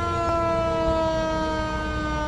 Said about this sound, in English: Oh, fire truck getting called off to something.